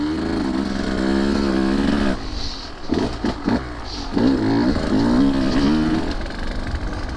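A 2023 Husqvarna TE150 two-stroke dirt bike ridden on single track, its raspy engine revving up and down in bursts, with throttle chops and a brief drop in noise before it pulls hard again, close by.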